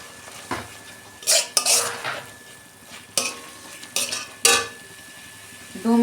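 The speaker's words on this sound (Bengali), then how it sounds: "তেল ছাড়া অবধি আমি ভালো করে 2 মিনিট কষাবো মশলাটা" Spice masala with turmeric, coriander and cumin powder and a little water being sautéed in a pan for a fish curry, a quiet sizzle broken by several loud metal spoon scrapes and clanks against the pan, no speech.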